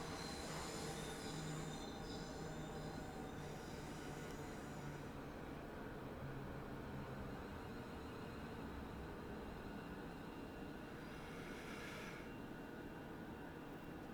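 Passenger train in Train Sim World 5 running on the West Coast Main Line south toward London Euston, with steady loud rolling rumble throughout and wheel squeal rising and fading over the run, no talk.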